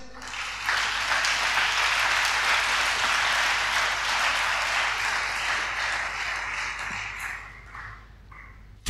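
A church congregation at a Sunday worship service breaks into loud, sustained applause that holds steady for several seconds before tapering off near the end.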